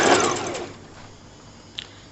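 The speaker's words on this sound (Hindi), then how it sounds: "फिर हम सिलाई लगा देंगे" A sewing machine stitches a double strip onto a kurti neckline in a short loud whirring run that fades quickly, followed by quiet and a small click.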